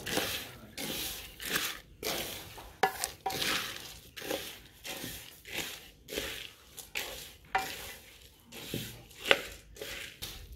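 Peanuts are roasted and stirred in a kadhai on a stove, giving a steady run of scraping, rattling strokes at a fairly low level, with short pauses between the stirs.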